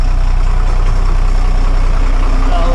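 A diesel engine runs steadily after a fuel filter change, a loud, continuous low rumble with an even idle throughout, close up and with no voices.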